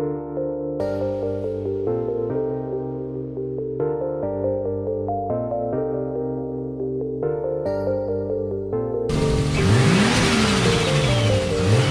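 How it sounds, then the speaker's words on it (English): A Toyota Supra engine runs with a steady, droning idle that shifts pitch in steps, then swells into a louder, rougher rev toward the end, heard up close. "You can currently hear my Supra's up and running already."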